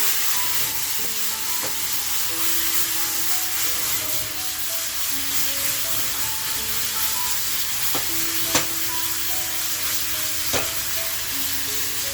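Mutton chops sizzle steadily in hot oil with garlic and a little coriander, a continuous close frying hiss with faint stirring and occasional soft clicks from the pan, no talking.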